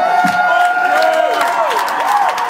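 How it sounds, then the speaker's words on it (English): A crowd at a live metal concert cheering, whooping and shouting with some clapping underneath, loud and close, with sustained high yells rising and falling over the noise. "Give yourselves a round of applause"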